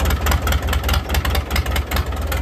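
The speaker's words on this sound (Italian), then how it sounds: "scaldiamo il motore del trattore e andiamo." Tractor engine idling while warming up, a close, loud low rumbling chug with regular knocking pulses, steady throughout with no speech.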